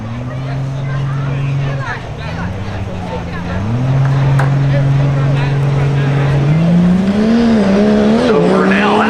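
Cummins diesel drag truck making a quarter-mile pass, its engine roaring loud and close with rising and shifting pitch and tire squeal over the top, while an announcer talks throughout.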